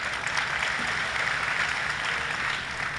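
Applause from an audience at a live folk performance event in Saurashtra, a steady dense clatter of many hands sustained and fairly loud throughout, with no talk over it.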